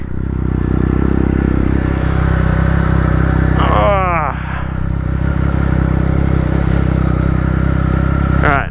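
A Triumph Speed Triple RS motorcycle engine idles with a steady, loud low rumble, joined by a brief rising scrape-like whine midway, with talk over the top.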